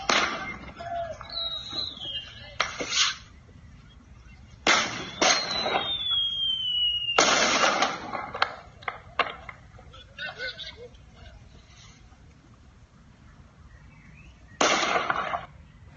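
Gunshots during clashes in Nochixtlán, Oaxaca, heard as sharp isolated cracks spaced seconds apart, some with a short echoing tail, over a steady outdoor background with faint voices.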